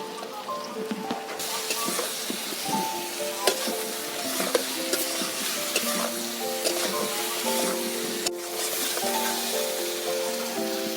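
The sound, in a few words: onions frying in oil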